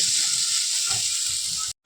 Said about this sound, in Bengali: বাবার জন্য ভাজছি আলু